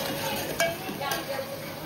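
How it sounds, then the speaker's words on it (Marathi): Turmeric sautés with cooked tomatoes in a pan, a faint, brief sizzle with a light stir or scrape of a spoon. "आता आपण त्याच्यामध्ये हळद टाकूया आणि 1 मिनिट परतून घेऊ आपण हळद"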